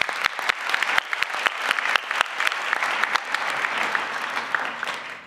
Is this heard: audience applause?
yes